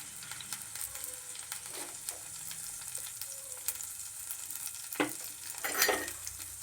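Byadgi chillies fry in a pan with a soft, steady sizzle. Occasional louder scrapes and clinks of stirring break through near the end, and no one speaks.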